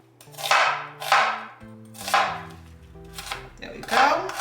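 Onion being thinly sliced with a knife on a board, five crisp, evenly spaced chops, close and fairly loud, with no talk.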